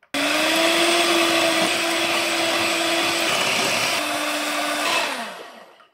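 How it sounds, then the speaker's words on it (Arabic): An electric mixer beats dough mixture for Algerian shawarma bread and dyoul pastry made for celiacs, a steady loud whirring drone that holds for several seconds and then winds down. "نضرب الان الخليط حتى نتحصل على القوام المطلوب"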